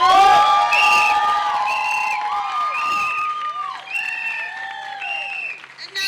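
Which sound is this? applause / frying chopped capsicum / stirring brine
applause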